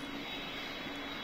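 Steady, faint jet-engine hum from a Concorde airliner in a Roblox flight game, a continuous airy drone with a thin high whine and no talking.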